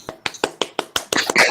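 A few people in an online meeting clap after a lecture, with about eight sparse, separate claps arriving close to the microphone and then a brief cluster of quick, overlapping claps at the end.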